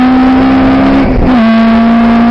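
Racing cars at the Thruxton circuit in a Classic Thunder and BOSS race, a loud, close, steady engine drone with a brief dip and shift in pitch as a car passes.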